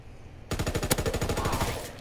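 Rapid automatic gunfire in Call of Duty WW2, a loud burst of evenly spaced shots that starts abruptly and runs continuously for over a second, close and dense.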